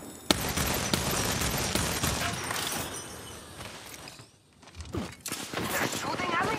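Rapid video-game gunfire from Apex Legends, sustained bursts of automatic shots filling most of the clip, briefly dropping off before resuming, with a player talking over it.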